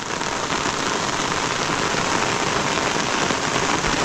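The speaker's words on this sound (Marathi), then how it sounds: "एवढा मोठा पाऊस आहे सध्या पावसाने जोर वाढवला आहे" Heavy monsoon rain pours steadily in a Konkan village, a dense, unbroken hiss that stays loud and even from start to finish, with no voices.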